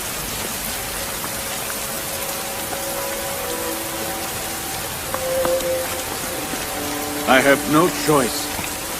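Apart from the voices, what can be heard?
rain falling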